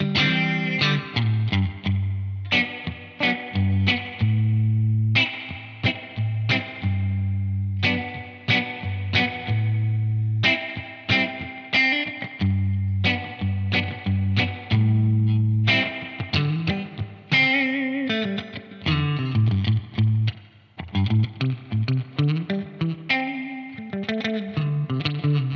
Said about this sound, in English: This is everything at 12 o'clock on the spring reverb sound.